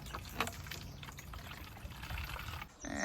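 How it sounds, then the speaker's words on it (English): Gasoline poured into a container of water, a steady close trickling pour with splashy bursts that runs for about two and a half seconds, then briefly stops and resumes. "I'm just pouring the gasoline into the water"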